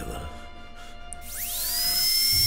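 A saw cuts into the player character in the HEKTOR game, a whining mechanical tone that rises sharply in pitch, then holds as a steady high buzz with building noise beneath.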